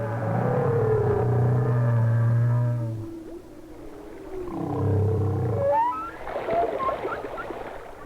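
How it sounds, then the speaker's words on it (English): Humpback whale song underwater, long tonal moans and rising wails in phrases separated by short pauses, with higher squeaky calls near the end over a low rumbling background of distant singing. "the songs carry a long way in water, and distant whales provide us with a background of almost continuous singing"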